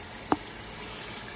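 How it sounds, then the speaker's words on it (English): A steady hiss of shrimp frying and sizzling in oil at about 350 degrees continues throughout, with a single short pop near the start. "I got my last three shrimp in, frying up."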